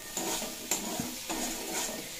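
Spinach and potatoes stirred while frying in a pan, with a soft sizzle under about four distinct scraping strokes of a spatula against the pan.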